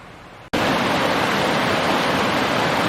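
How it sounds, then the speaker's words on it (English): A creek beside Lake McDonald Lodge in Glacier National Park in winter, a loud, steady broadband rush of flowing water that bursts in abruptly after a brief quieter moment and continues unbroken and close. "we stopped at a creek right beside Lake McDonald Lodge"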